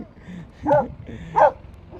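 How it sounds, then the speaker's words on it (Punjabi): A farm dog in a Swiss village barks twice, sharp and fairly close, with a short pause between the two barks. "ਇਹ ਦੇਖੋ ਕੁੱਤੇ ਕਾਤੇ ਰੱਖੇ ਹੋਏ"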